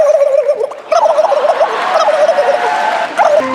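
A girl imitates a turkey's gobble with her voice, a warbling, rapidly wavering call held close and loud for several seconds with a brief break near the start of the second second.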